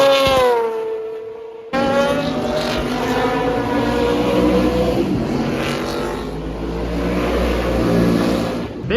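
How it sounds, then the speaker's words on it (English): Mazda FC RX-7 IMSA GTO race car with a rotary engine, screaming loud and close as it revs and climbs through gears, a brief cut in the sound, then a sustained high-pitched buzzing drive-by at a historic racing reunion. "That rotary engine cannot be topped."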